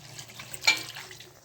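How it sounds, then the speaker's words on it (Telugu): A glass of water poured into chicken curry cooking in a pan, a brief splash and hiss in the middle of a quiet, bubbling background. "1 glass వాటర్ యాడ్ చేయాలి దీనికి"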